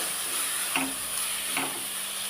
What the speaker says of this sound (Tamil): கொஞ்சமாக பெரட்டி விட்டுக்கலாம்